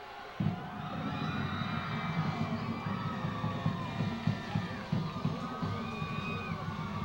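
A stadium crowd cheers and shouts steadily at a Thanksgiving Day high school football game between Waltham and Brockton, with scattered whoops and yells rising above a continuous low rumble of noise.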